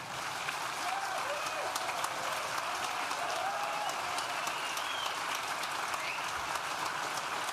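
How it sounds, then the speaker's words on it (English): A large crowd at a university graduation ceremony claps softly and continuously, a gentle, even patter like light rain that stays steady and fairly distant throughout. "Nice gentle clapping."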